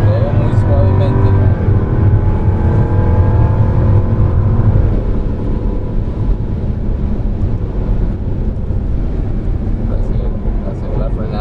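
2016 Jaguar F-Type R driving on a track, a loud steady engine drone heard from inside with wind noise, its pitch shifting as the car accelerates, while someone talks over it.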